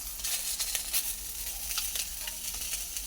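Falli (folui) fish sizzles in frying oil, a dense, even hiss broken by frequent small crackles and spits, close and steady throughout, with no talking.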